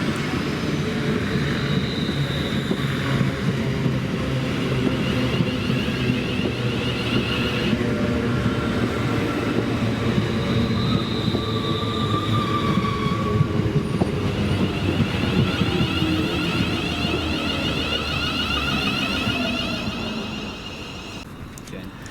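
A London Northwestern Railway Class 350 electric multiple unit on a service from London Euston passing through Stafford station: a long steady rolling rumble with faint whines, holding loud before easing off at the end.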